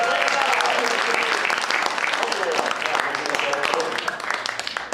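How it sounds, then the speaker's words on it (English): A live stage show audience applauds a volunteer after a sword-swallowing act, dense continuous clapping filling the room, with voices talking over it. "Give him a nice round of applause"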